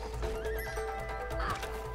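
Horse neighing in the video game It Takes Two, a loud whinny with clip-clop hoofbeats over continuous game sound, with no voices.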